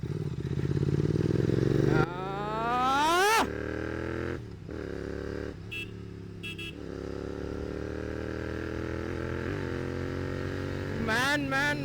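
A Royal Enfield GT 650 motorcycle is ridden. Its engine revs climb and drop through gear changes, with a loud, close, throaty exhaust that rises in pitch and then settles into a steady cruising drone.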